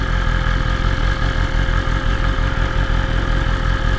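A BMW motorcycle engine idles in neutral with a steady, close, loud mechanical drone and continuous low rumble throughout.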